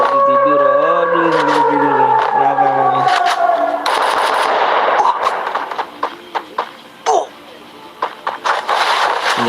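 Rapid bursts of VSS suppressed rifle fire in an online shooter game, a run of sharp repeated shots in the second half, following a rising and falling tonal sound and overlapping game effects.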